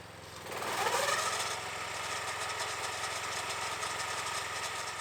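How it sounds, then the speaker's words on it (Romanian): Progarden Campo T18/T12 minitractor engine running close by, swelling briefly as the clutch engages and then settling into a steady idling drone with a faint rhythmic knock, no talk. "Pornim motorul și verificăm ambreiajul."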